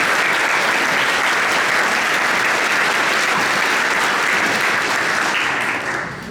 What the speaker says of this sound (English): So another round of applause for Sophia.